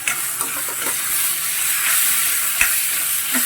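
Prawns are added to a pan of frying prawn gravy, giving a continuous close hiss and sizzle with a few soft scrapes and clinks of stirring.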